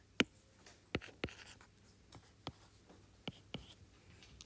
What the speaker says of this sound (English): I'm going to draw a triangle MNP.